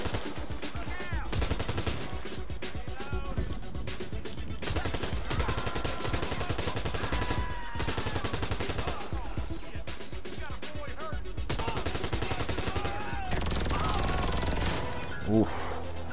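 Rapid bursts of gunfire ring out during a solo survival run in GTA V, loud and repeated in stretches, mixed with other busy game sounds.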